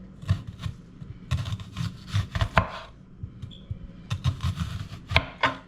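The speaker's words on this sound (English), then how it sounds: "this is how I'm gonna slice the onions down, just like this, thinly, and just slice it down" A knife slices thinly through onions on a cutting board for a green banana escabeche salad, quick uneven chopping strokes in short bursts with pauses between, close and fairly quiet.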